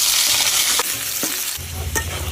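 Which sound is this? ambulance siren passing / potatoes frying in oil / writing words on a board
potatoes frying in oil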